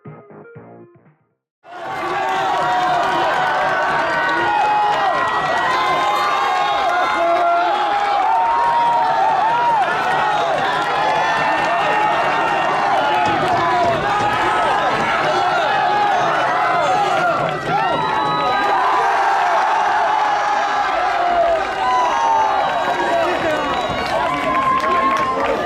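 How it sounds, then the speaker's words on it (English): A high school crowd roars and cheers continuously at a stroller mile race, loud and sustained, with voices and clapping mixed into the din. "As the high school crowd roared and Hoosman strided in"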